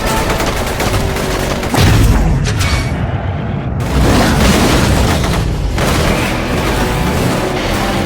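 Heavy booming explosions with rapid gunfire-like crackle in the video game Stuntman: Ignition, loud and close, several blasts in quick succession as a dune buggy passes.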